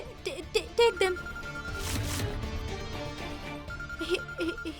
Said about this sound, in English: Why isn't Radha answering the call?